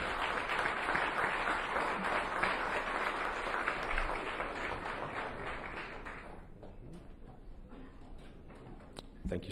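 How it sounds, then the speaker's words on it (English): An audience at a street pitch event applauds after a presentation, with dense clapping that gradually thins and fades toward the end, leaving scattered claps. "Give them another round of applause"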